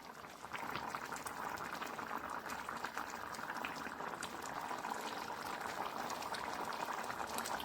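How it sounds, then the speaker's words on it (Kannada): Pineapple curry sweetened with jaggery boils in a pot, a constant soft bubbling and popping texture heard close and fairly quiet, without pause. "ಈಗ ಮತ್ತೆ 2 ಟೇಬಲ್ ಸ್ಪೂನ್ ಬೆಲ್ಲವನ್ನು ಹಾಕಿ ಕುದಿಸ್ತಾ ಇದ್ದೀನಿ"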